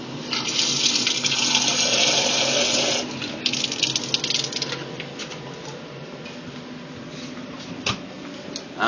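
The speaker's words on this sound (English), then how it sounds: "I fill with tap water." Tap water runs into a container for wood fiber extraction, a loud steady gush for about three seconds that thins into lighter splashes, trickles and a few drips, with no voices.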